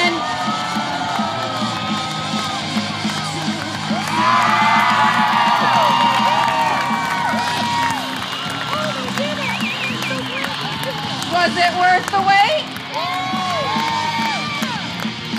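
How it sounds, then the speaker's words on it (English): A crowd cheers and whoops at a water ski team show in Clarkston, Michigan, during an around-the-boat pyramid, with swelling shouts and bursts of excitement beneath a loud announcer talking over a PA. "Cheer them on, ladies and gentlemen."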